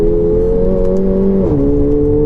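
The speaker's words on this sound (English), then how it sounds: "Yeah, it sounds like a proper AMG, even though this is a 2-litre engine." A Mercedes CLA 45 AMG's 2-litre engine revs steadily from inside the car, with a brief dip and shift in pitch midway, loud and close with no voices.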